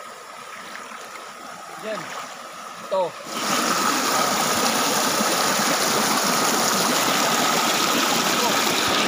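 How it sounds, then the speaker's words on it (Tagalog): After a few quiet spoken words, a loud, steady rush of a strong-flowing river starts abruptly and continues evenly to the end. "At yung tunog ng ilog."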